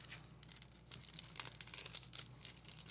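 Sheet of paper folded in half repeatedly, giving close, dry crinkling and crumpling rustles with brief sharper tearing-like crackles, steady and busy throughout over a low hum.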